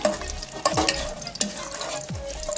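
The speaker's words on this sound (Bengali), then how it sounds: "গরম তেলে দিয়ে দিচ্ছি প্রথমে 2টো তেজপাতা, 2টো ফাটিয়ে রাখা এলাচ, 2-3 টুকরো দারুচিনি আর 10টা লবঙ্গ আর 12টা গোলমরিচ।" Bay leaves, cracked cardamom, cinnamon pieces, cloves and black peppercorns fry in hot oil in a pan, a steady close sizzle broken by a few sharp stirring scrapes.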